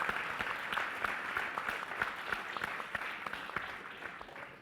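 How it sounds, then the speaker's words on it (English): Steady applause from a conference audience welcoming panelists onto a discussion on building organisational culture, dense continuous clapping lasting the whole stretch at moderate distance with no voices over it. "Please give them a huge round of applause."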